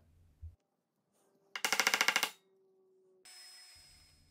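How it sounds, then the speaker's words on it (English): A metal bandsaw cutting excess brass rod: a short, loud, rapidly pulsing burst, then a steady, bright grinding hum after a pause, with a few faint knocks between. "I cut the excess on the metal bandsaw"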